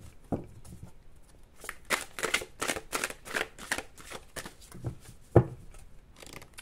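Tarot cards are gathered and shuffled up close, a run of crisp riffling bursts and slaps in quick irregular rhythm, with one louder knock near the end.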